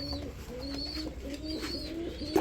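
Racer pigeons give repeated low cooing calls in a steady rhythm, close and clear, with a short sharp noise at the very end.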